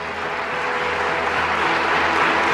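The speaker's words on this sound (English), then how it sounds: "Round of applause." Steady applause from a board meeting audience honoring port authority commissioners, a dense, sustained wash of clapping building slightly louder, with no talk over it.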